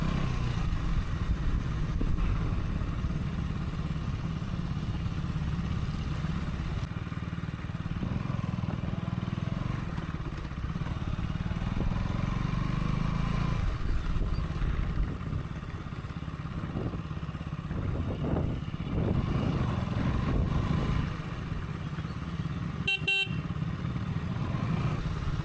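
A motorcycle rides along a road near the entrance of Rollapadu Wildlife Sanctuary in Andhra Pradesh, a steady close engine rumble with wind noise, occasional horn toots and faint distant voices.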